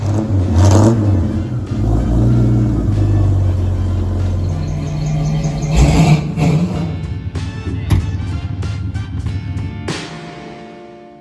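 A car engine runs loud and close after starting up, revving and rumbling with a few sharp blips of the throttle, then settling and fading out toward the end.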